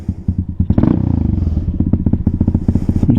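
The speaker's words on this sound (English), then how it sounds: "See if it idles." Venom Thunder 125cc motorcycle engine idling low after a carburetor install, a close, loud, rapid putting beat that briefly revs and sputters before settling into an uneven, lumpy idle.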